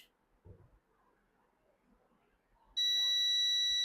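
Multimeter in continuity test mode checking a speaker gives a sudden loud, steady high-pitched electronic beep that starts after a quiet pause with faint handling sounds and holds continuously to the end.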